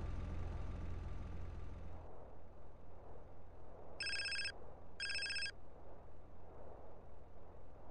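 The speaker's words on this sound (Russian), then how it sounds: "Звук с телефона, кстати, стал стандартный." Phone ringtone in the Grand Theft Auto: Alien City video game: two short bright electronic rings sound over a steady low rumbling car engine drone.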